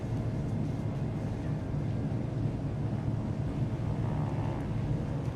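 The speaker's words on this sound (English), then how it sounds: "I can hear the plane" A tow plane engine in Microsoft Flight Simulator 2024 during glider training, a steady, continuous low drone with wind rush, holding even throughout and no talk over it.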